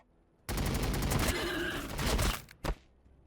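A sustained volley of rapid gunfire from Space Marine troops in the strategy game Warhammer 40k Battle Sector, loud and dense for about two seconds, then breaking off into a few final sharp shots.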